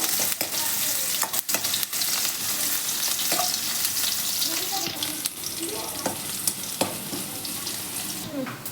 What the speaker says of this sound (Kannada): ಬೆಳ್ಳುಳ್ಳಿ ಬೆಳ್ಳುಳ್ಳಿ ಚೆನ್ನಾಗಿ ಬ್ರೌನ್ ಆಗಬೇಕು